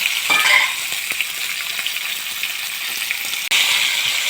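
Pumpkin pieces sauté with shallots, dried chillies and curry leaves in a hot pan, giving a loud, constant sizzle with occasional clinks and scrapes from stirring.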